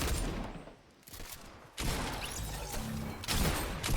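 Gunfire in a first-person shooter video game: a burst of sharp shots with crackling impacts, then a short lull before more gunfire and clatter, fairly loud, with no speech.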